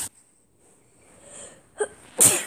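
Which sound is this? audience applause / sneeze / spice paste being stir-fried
sneeze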